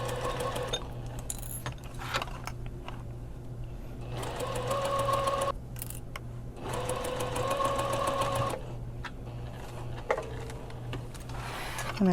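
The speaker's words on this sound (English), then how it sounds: "So sew along the armhole opening with a 1/2 inch seam allowance." A sewing machine stitches the armhole seam of a puffy sleeve on a shirred dress, running in close, steady bursts of rapid mechanical clatter with short pauses between runs and a constant low hum underneath.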